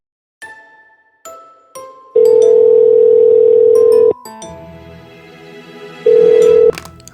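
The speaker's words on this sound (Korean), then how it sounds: "깜짝이야 뭐야 영상통화인데" An incoming video call rings out as a loud electronic tone, starting with a few chiming notes and then sustained ringing bursts that stop and start again, with no talking.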